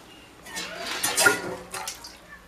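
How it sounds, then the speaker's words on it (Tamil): Dried anchovies being washed by hand in a container of water, a soft swish and splash that swells mid-way then settles, close by with no talk. "வேறு தண்ணியில் இந்த மாதிரி கழுவி மாற்றிக்கலாம்"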